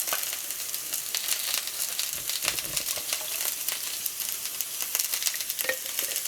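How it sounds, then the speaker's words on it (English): Potatoes frying in a pot with tomato sauce crackle and sizzle steadily up close as bone broth goes in, with sharp bursts of spatter scattered throughout and no talking. "now we're going to add this bone broth"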